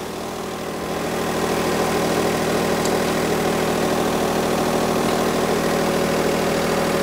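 A Smart ForTwo 451 car engine idles steadily after starting, a constant close rumbling drone that holds even throughout with no talk over it.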